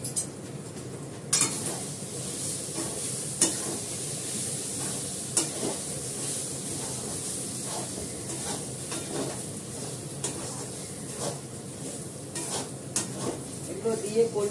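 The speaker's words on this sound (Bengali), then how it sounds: "এবার এটাকে ভালো করে নাড়াচাড়া করব।" Vegetables with salt being stirred in a hot frying pan, giving a steady sizzle broken by repeated scraping and clinks of a utensil against the pan, fairly close and with no talking.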